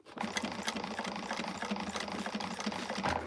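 A sewing machine stitches a bag seam, a steady fast mechanical clatter running continuously at close range with no pauses.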